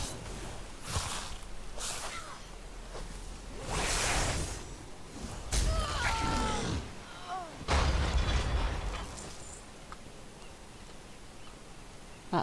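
Cannons aboard a ship firing in World of Warcraft during a fight with undead and Zandalari, several heavy booming blasts spaced a second or two apart over a busy game soundscape, with brief chirpy creature noises.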